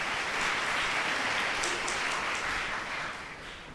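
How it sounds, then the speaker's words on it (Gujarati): A large Swaminarayan religious gathering breaks into applause, a dense, sustained wash of many hands clapping, even and loud, tapering slightly toward the end. "એક તાળીઓ દો"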